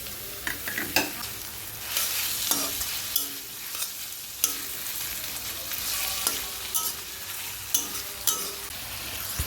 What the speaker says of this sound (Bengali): সর্ষে তেল দিয়ে আমি আগে এই পেঁয়াজগুলো ভেজে নেব